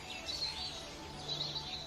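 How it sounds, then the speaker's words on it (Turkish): Birds chirping faintly in the distance, a few scattered high tweets over a steady low hum. "Kuşların sesini duyuyor musunuz?"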